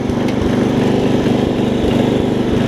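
An old Murray riding mower's small engine runs steadily up close, a continuous loud throbbing putter with an even rhythm and no voices.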